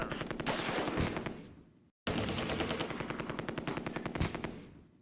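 Heavy automatic gunfire in the World War II strategy game Close Combat: A Bridge Too Far, loud rapid machine-gun bursts in two long continuous volleys split by a brief silence.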